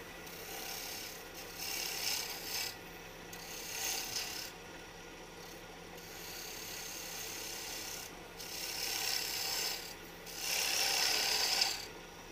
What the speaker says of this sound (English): Crank the lathe speed up.